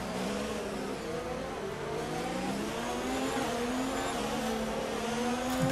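Formula 1 race car engine in a video game at the Baku street circuit in Azerbaijan, a loud steady high-pitched whine rising and falling through gear changes along long straights, continuous throughout with no talking.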